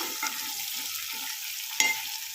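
Potato pieces and drumsticks sizzle steadily in hot oil as they are sautéed, with a continuous frying hiss and soft scraping stirs from a spatula, close by and with no talk.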